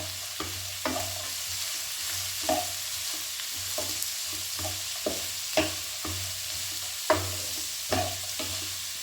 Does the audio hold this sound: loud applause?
no